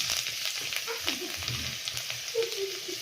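Garlic sizzles in hot refined oil in a kadai, a steady close crackling hiss with small spits and pops throughout, and no voices.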